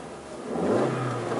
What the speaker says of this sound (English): And then we hear this motor sound.